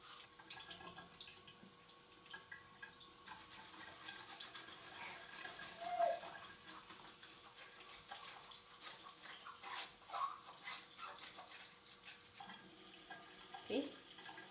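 Tap water runs steadily over a dirty makeup brush in a sink, a faint, continuous wash with a few small splashes and drips, fairly quiet and close.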